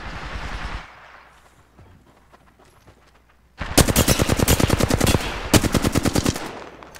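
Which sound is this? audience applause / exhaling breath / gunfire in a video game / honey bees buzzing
gunfire in a video game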